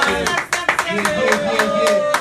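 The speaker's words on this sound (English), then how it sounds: "can we have a warm OnPoint Radio round of applause" Distinct, individual claps at a steady rhythm, as from a small group applauding on a live talk radio show. Music and voices play underneath.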